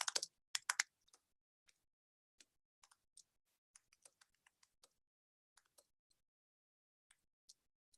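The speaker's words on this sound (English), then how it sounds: "I have to type Tom's name in here because he's having trouble hearing us" Sparse, quiet keystrokes on a computer keyboard during an online poetry reading: a quick cluster of clicks at first, then single taps at irregular intervals, close and isolated with no talk.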